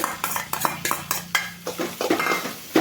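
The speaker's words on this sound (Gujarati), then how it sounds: "થોડીક વાથી આપણે ડુંગળીને બે મિનિટ સુધી સાતડવાની છે" Onions sautéed with chili, garlic and ginger in a pan: close, repeated metal spoon scrapes and clinks against the pan come in an uneven stirring rhythm over a faint sizzle.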